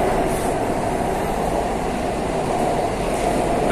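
Inside a moving Kolkata underwater metro train: constant loud low rumble and roar of the carriage running through the tunnel, steady throughout with no voices.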